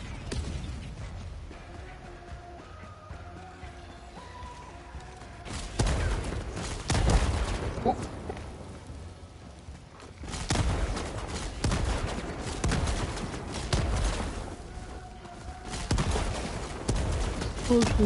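Explosions and rapid gunfire in the video game Helldivers 2 come in heavy bursts, with dense blasts and rattling shots filling most of the clip after a quieter start, and voices faintly present.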